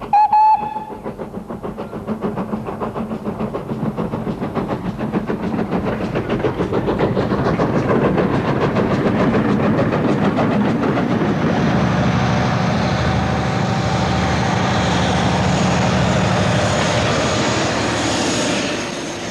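A steam train builds up from a standstill, rhythmic chuffing quickening into a loud, continuous roar of a locomotive running close by.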